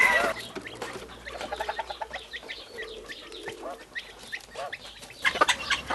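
A mother hen clucks in quick, repeated low calls to her chicks, with high peeping chicks and other fowl chattering around her at close range.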